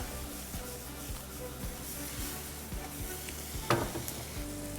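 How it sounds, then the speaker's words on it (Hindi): Vegetables stir-frying with chili sauce over high heat, a close continuous sizzle punctuated by regular scraping stirs of the spatula and one brief louder clatter. "ना हाई हीट पर इसे करेंगे स्टर फ्राई।"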